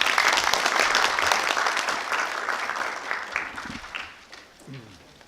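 Dense audience applause fills a hall at a Korean cultural-movement ceremony as a lawmaker is invited up to read a declaration, loud and steady for about four seconds before thinning out and fading.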